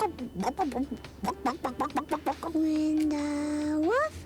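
A young child imitates a chicken, giving a quick run of about a dozen rhythmic vocal clucks, then a long held squawk that rises sharply in pitch at the end, close and clear.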